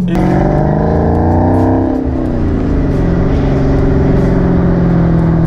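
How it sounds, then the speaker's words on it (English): A loud 2018 Dodge Challenger Hellcat engine with a six-speed manual revs up and holds high, with a distinct high-pitched supercharger whine riding over the deep exhaust roar. "so you might be able to hear the supercharger"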